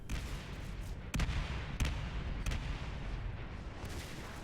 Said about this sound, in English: And Eddie's just blowing everything up with his GL right now. There we go, hand grenades are on the field.